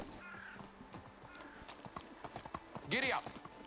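Horse hooves clip-clopping in a steady trot in the Medieval Dynasty video game, a soft repeated rhythm with a brief neigh near the end, and someone talking over it.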